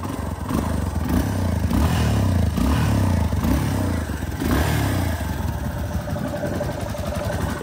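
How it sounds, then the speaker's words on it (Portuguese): A 2023 Honda Lander 250 single-cylinder motorcycle with its stock exhaust idles nearby with a rough, clattering rumble and is repeatedly revved in short swells. "Esse é o som da Lander."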